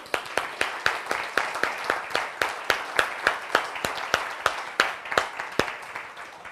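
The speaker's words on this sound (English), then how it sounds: "So I think the person who needs a big round of applause is Mr. Walt Klenz." Rhythmic unison clapping from an audience at a wine business speaker event, sharp evenly spaced claps at a brisk steady tempo for several seconds.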